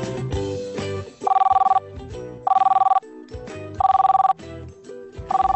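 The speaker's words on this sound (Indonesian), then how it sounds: "ini telepon udah rusak mungkin ya" A telephone bell ringing in repeated electronic bursts, four loud ring pulses at steady intervals alternating with musical tones between them, close and prominent.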